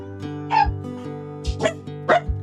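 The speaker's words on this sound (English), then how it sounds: "they just started barking" Several nearby barks and yips from dogs in quick irregular bursts over a steady low electrical hum.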